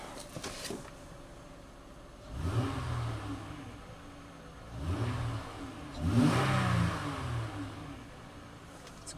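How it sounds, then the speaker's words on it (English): A parked car's engine is revved three times in succession from idle, each blip swelling into a throaty roar and settling back, moderately close in an outdoor lot. "It's a good sounding engine"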